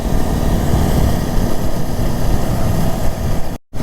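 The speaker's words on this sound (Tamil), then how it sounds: "எவ்வளோ ஸ்ட்ராங்காக அலை அடிக்குது பாருங்கள்." Strong sea waves surge and crash at Arichal Munai, the end point of Dhanushkodi, as a loud, steady broadband roar that continues with no talk and breaks off briefly near the end.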